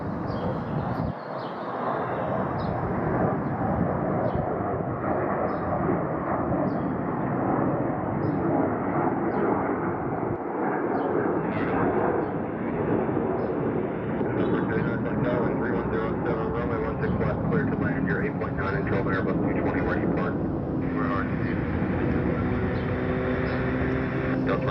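Airliners departing Salt Lake City International Airport create a sustained jet roar in the distance, rising and falling, mixed with crackly radio voices.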